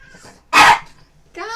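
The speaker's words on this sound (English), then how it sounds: "dog and cat, what are you doing?" One sharp, loud dog bark close by in an indoor room, followed by a whiny animal vocalization; a brief short sequence with quiet pauses between.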